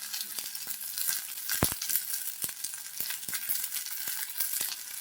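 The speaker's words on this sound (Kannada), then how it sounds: "ಇದನ್ನು ನೀಟಾಗಿ ಹುರ್ಕೊಬೇಕು" Garlic, onion, tomato, mint and herbs sizzle steadily in hot oil in a pan, a constant close crackle with occasional sharper pops and stirring scrapes.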